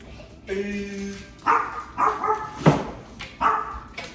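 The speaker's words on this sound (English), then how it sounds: "I think she just like barks for nothing." A dog barks several times in short bursts, close and loud, with brief pauses between barks.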